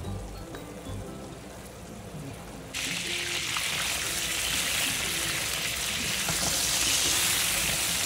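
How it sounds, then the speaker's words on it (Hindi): Meatball curry bubbles in a pan over a high flame as its water boils off, a steady broad sizzle that jumps suddenly louder partway through and then holds constant, alone and close. "बस अब मैंने इसका चूल्हा तेज़ कर दिया है ताकि इसलिए सारा पानी जो है ना खुश्क हो जाए"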